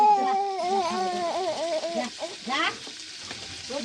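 Hot oil in a pan sizzles and crackles steadily as a bit more oil is poured in, the frying noise close and continuous, with a voice and other voices talking and wailing over it.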